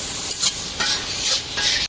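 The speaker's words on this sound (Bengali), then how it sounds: "এখন মাছ রান্না করা হবে, তাই মশলা কষে নিচ্ছে।" Spice paste for fresh tangra fish frying hard in a pan, a steady loud sizzle broken by several scraping stirs of a spoon, with no voices.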